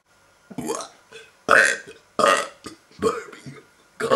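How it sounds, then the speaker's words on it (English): A run of about five loud, close, voiced burps in a burping contest comes in quick succession with short gaps, each a croaky, drawn-out belch, heard alone without talk. "Why did you burp at me?"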